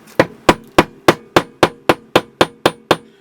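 Metal-on-metal hammer taps, struck with the side of a lever hammer while shaping a ferro rod, ring out in an even rhythm of about eleven sharp, loud blows with short decays and no speech.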